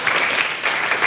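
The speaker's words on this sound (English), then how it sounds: "I want all of you to give a round of applause to all of your beautiful selves for coming out this" An evening event audience gives a round of applause, a steady, even wash of many hands clapping together throughout the brief moment.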